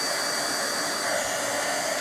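A heat embossing tool blows a steady, loud hiss of hot air over acetate on a handmade card, unbroken and close for its whole brief run, with no talking.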